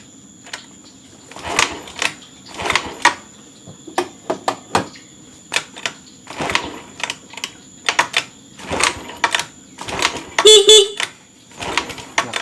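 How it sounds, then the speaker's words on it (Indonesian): Horn of a Honda Beat ESP scooter with a total electrical failure sounding in several short bursts amid intermittent clicks and mechanical noise during electrical troubleshooting, fairly close. "Klakson masih nyala."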